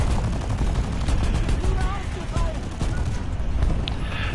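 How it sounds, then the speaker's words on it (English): A big tank cannon and gunfire in the War Thunder video game boom under loud, continuous battle noise, with a player's voice talking over the action. "Oh, that's a big cannon."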